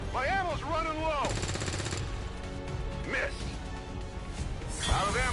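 Gunfire in the turn-based game XCOM 2 during a Gatecrasher mission, a loud burst of dense automatic-sounding shots with crashing impacts, mixed with in-game voices and tonal game effects.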